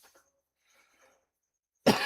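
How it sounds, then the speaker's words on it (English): One sharp, close cough bursts out at the end after a quiet stretch with only faint soft rustles. "Hopefully my cough isn't coming out like ridiculously loud."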